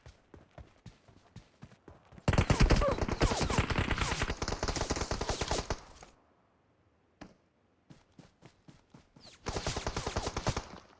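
Gunfire in the video game PUBG Mobile, sharp rapid automatic bursts in two long loud strings separated by a quieter stretch of sparse single shots and footstep-like taps.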